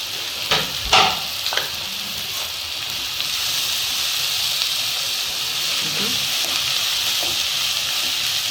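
Carrot, cabbage, capsicum and coriander are fried for momo filling. A few clattering stirs come at first, then a steady, fairly loud hissing sizzle carries on alone.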